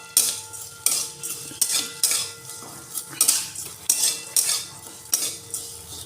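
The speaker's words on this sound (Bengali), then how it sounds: "আমি এতে কিছুটা সিমুই নিয়ে নেব। সিমুইটা ভেজে নেব।" Vermicelli being fried in ghee in a wok, with repeated metallic clinks and scrapes of a spatula stirring at a steady rhythm, close and fairly loud over a faint sizzle.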